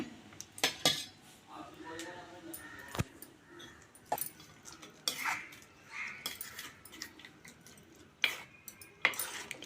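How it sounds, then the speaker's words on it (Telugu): Wood apple, yogurt and chutney being stirred together in a bowl, a spoon clinking and scraping against the dish in irregular close taps, with a faint voice in the background. "ఎలక్కాయ పెరుగు పచ్చడి ఇలా కలిపేసుకొని ఉండలు లేకన్నా"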